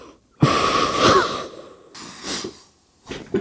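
A person exhales during chiropractic treatment: a loud, close, breathy release that trails off, followed by two shorter, softer breaths, with silent gaps between.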